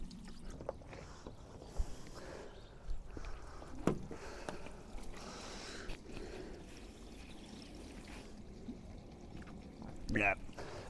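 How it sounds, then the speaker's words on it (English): Water pouring and trickling into the rear light cluster and boot of a Mk2 Golf, a faint continuous running sound with occasional clunks and splashes, with people talking over it. "There's water pouring into it."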